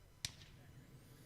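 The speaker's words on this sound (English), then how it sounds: "that was Tom Costley hitting his own pad with his bat" A single sharp knock sounds as a cricket bat strikes a batting pad at a club match, brief and fairly close against a quiet outdoor background.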